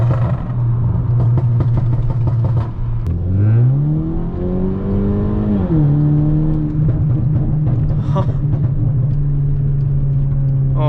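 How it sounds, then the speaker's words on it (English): A Stage 2 Mercedes CLA with HKS mufflers drones loudly as the engine revs rise and fall under an underpass, with scattered sharp exhaust pops and crackles breaking through the steady exhaust note. "oh my god, those pops are insanely loud"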